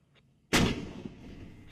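A single heavy boom from an M777 ultra-light howitzer during firing trials at Pokhran, Rajasthan. The sharp, loud blast decays into a rolling rumble with a faint echo.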